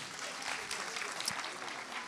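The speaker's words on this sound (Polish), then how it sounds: "O, brawa dla Zuzi." Applause from an audience at an outdoor children's choir performance beside a church, a steady wash of clapping at moderate level throughout, with faint voices mixed underneath.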